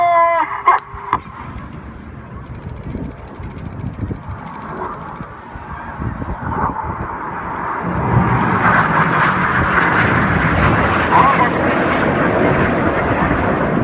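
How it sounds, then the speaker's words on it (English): Red Arrows display jets trailing coloured smoke roar overhead at the Bournemouth Air Festival, a broad engine rush that swells and stays strong as they pass, with a commentator's voice over it and wind buffeting the microphone. "Flying his jet up through the middle of the vortex with the white smoke is Red 8, Flight Lieutenant Ollie Parr."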